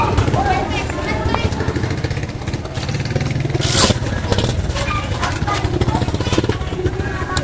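A motorcycle engine at a town market runs and revs in a rough, continuous drone with a louder rise midway, while people talk nearby.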